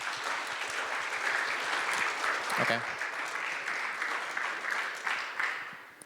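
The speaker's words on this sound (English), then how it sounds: "let's give a round of applause for Gennady" Audience applause for Gennady Korotkevich at an ICPC programming-contest talk, steady dense clapping throughout, with a brief spoken word partway through.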